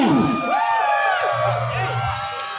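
A crowd of supporters cheering and shouting at a mini-goal football final in Maluku, many overlapping voices whooping and yelling in a loud, dense roar.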